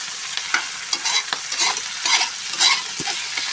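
Adobo stirred in a sizzling pan, a spoon scraping in repeated uneven strokes over a constant frying hiss, close and alone with no voices.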